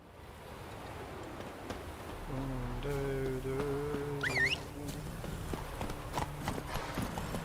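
Roach, a horse in a video game, clip-clopping at a walk, soft repeated hoof falls under game music with a sustained melodic tone and a brief rising whinny-like sound midway.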